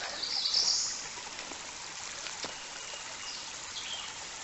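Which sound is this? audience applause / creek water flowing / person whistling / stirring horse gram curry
creek water flowing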